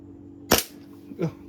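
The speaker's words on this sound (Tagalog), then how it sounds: "Test natin yung chrono, kung ilang FPS. First putok pa to sir ha." A single sharp crack from a Double Bell Infinity Gold Hi-Capa 5.1 airsoft gas pistol fired through a chronograph, followed by a softer mechanical clack a moment later, close and loud.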